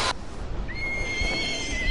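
A horse whinnies in the video game Kingdom Hearts 3, a bright rising then sustained neigh over steady game background noise, fairly loud and close, with no talking.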